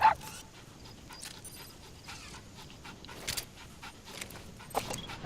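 D-Dog, the small companion dog in Metal Gear Solid V: The Phantom Pain, pants softly and steadily with a few faint whimpers and sharp game sounds mixed in.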